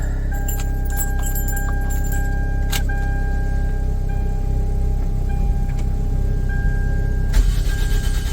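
A car engine starts up in the Smoky Mountains on a cold, foggy morning, with key jingling first, then a steady loud idle that continues as it warms up, no voices over it.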